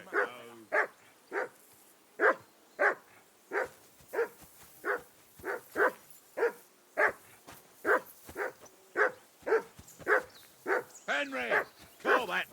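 A dog in the video game Kingdom Come Deliverance II barks in a long regular series of sharp, close barks with short gaps, ending in a few rapid yips.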